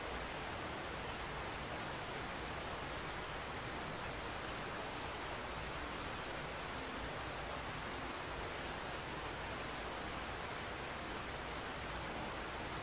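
An Austrian waterfall with a 380-meter drop roars as a steady, even, broadband rush, heard faintly from a distance without any voices.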